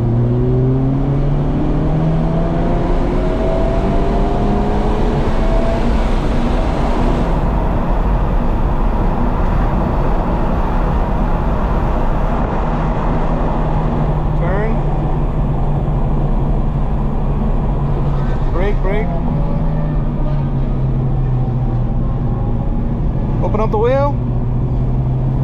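A race car on the Homestead Miami Speedway circuit accelerates hard, its engine note climbing steadily through the gears with brief dips at each upshift, loud and close from the cockpit, a constant roar throughout.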